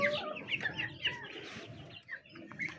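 Hens on a poultry farm give a rapid run of close, bright clucks and short squawks, with several birds overlapping against a low farmyard background and no talk.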